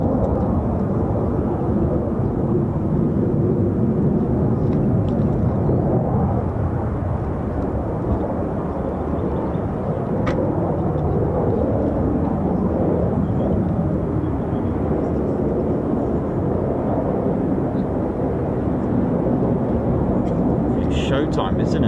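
Two F-35 fighter jets roar low overhead at a US Air Force base, a loud, continuous broadband jet rumble filling the whole stretch with a steady, slowly swelling intensity.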